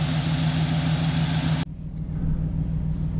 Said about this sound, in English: the exhaust, the muffler is not super loud